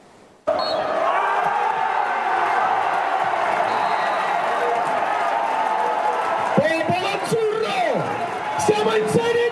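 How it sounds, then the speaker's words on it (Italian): Football supporters, about 400 travelling fans of the yellow-and-green side, roar and cheer in a loud sustained crowd din after the final whistle, with shouts and whoops rising out of it near the end. "A fine partita applausi anche per i gialloverdi e per i loro 400 tifosi"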